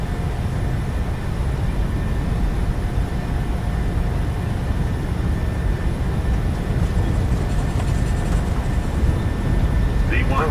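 A PMDG 737-800 in Microsoft Flight Simulator 2020 starts its takeoff roll, with a steady, loud jet engine roar and rumble that holds throughout and carries faint tonal whines over the broadband noise.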